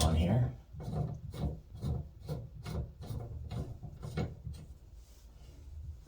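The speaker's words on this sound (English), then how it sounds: "And then you put the bonnet nut on here" A bonnet nut is threaded by hand onto a Valley shower cartridge, giving a series of soft, regular rubbing and scraping turns, close and fairly quiet, fading toward the end with no talk.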